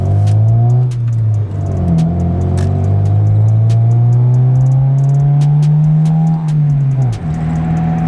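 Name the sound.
Honda Civic with loud aftermarket exhaust revving in neutral in tunnel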